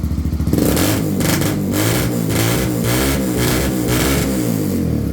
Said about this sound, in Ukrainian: Запустився з півтику, газуємо.